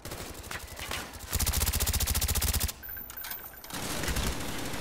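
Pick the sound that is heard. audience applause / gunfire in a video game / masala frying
gunfire in a video game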